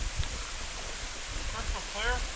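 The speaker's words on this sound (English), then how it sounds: "go take a look at this waterfall" A waterfall along the Appalachian Trail gives a steady, even rush of falling water, with a voice briefly heard over it near the end.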